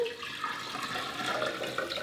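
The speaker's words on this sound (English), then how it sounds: "So I'm going to pop the water in there." Water is poured into a narrow blender jar, a steady rushing splash that goes on throughout and lands messily, fairly quiet with no talking.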